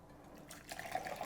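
Water pours into a tea decanter, a faint, close trickle that starts softly and turns into brighter splashing and dripping toward the end.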